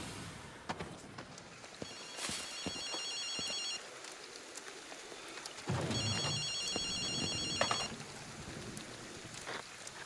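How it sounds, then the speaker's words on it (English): A phone rings in the video game Ghostwire: Tokyo, with two bursts of rapid electronic trilling separated by a pause, set against a steady rain-like ambient hiss. "Another ringing phone."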